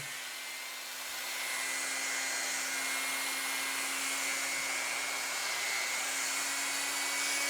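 A Hanabi 135W rotary tool, a cheap micro grinder, runs with a steady high-pitched whine that climbs slightly in speed after the first second, close and continuous with no speech.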